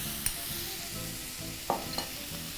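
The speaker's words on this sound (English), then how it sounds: "we're going to add about 30 grams of butter" Butter goes into a pan of vegetables and is stirred, a soft steady sizzle broken by a few close scrapes and clinks of the spoon against the pan.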